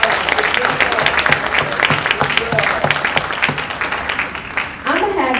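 An indoor audience claps for several seconds, a dense steady round of applause from many hands nearby that thins out near the end.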